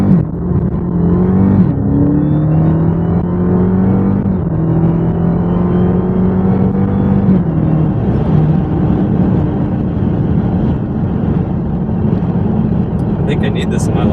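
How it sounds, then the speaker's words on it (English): A Dodge Charger Hellcat's supercharged engine pulls hard through first gear, a loud rising roar with a climbing whine that dips as revs drop, then settles into a steady drone. "I love that supercharger whine"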